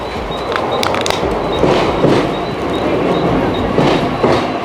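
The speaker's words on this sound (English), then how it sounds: "Seems like my train is coming right here." A Mumbai local train pulls into a station platform, its wheels clattering loudly and steadily with rhythmic clickety-clack and faint squeals, close by with no talk.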